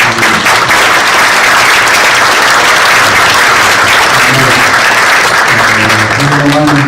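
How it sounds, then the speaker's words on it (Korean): Sustained audience applause fills a church conference assembly hall, loud and continuous throughout, with a few voices rising underneath near the end. "우리 박수 한번 보낼까요?"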